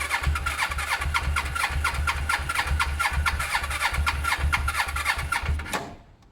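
A Suzuki GS500 500cc motorcycle with its choke on runs at a fast, lumpy idle, close and loud, with a regular pulsing beat that stops abruptly at the end.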